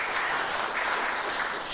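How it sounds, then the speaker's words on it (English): An audience at a Sunday forum applauds steadily, a dense, even wash of clapping that carries on without a break for a couple of seconds. "how about a nice round of applause for Birdie?"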